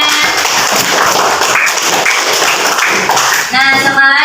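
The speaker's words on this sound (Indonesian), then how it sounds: "Tepuk tangannya." A classroom of pupils claps together in a dense, steady burst of applause for a few seconds, close and loud, ending as a teacher's voice returns.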